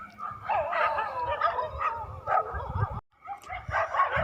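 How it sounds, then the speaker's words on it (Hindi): Dogs barking at night in a village, a rough continuous chorus of barks and yips at middling distance that breaks off for a moment and then resumes, heard with no voices over it. "कुत्ते भौंकते हैं"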